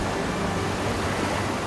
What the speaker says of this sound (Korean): 파도가 거세져 해안 동굴 안으로 들어가는 것은 위험하지만